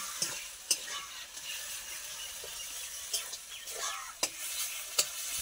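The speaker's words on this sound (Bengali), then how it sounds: "এখন এই মুহূর্তে এখন চাটনি করতেছে" Chutney cooks in a pan over a home stove, with a faint steady sizzle and scattered scraping taps from stirring, a few sharper knocks standing out.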